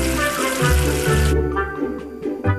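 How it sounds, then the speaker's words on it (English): Water pours steadily like a running tap in a kids' counting game, rinsing soap off a dirty number 8, then drops away halfway through to a quieter trickle with small splashes. "Wash away the soap with water."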